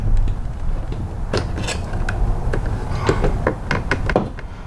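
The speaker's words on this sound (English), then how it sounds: "You just use a small flat blade screwdriver to get under the edge." A flat-blade screwdriver pries plastic trim off the door of a 2007 Pontiac Grand Prix, giving close, loud scraping and a series of sharp clicks and snaps as the clips release.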